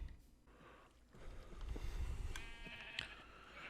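Sheep in the Minecraft video game bleat a few times over a steady, faint background hum, with no talking.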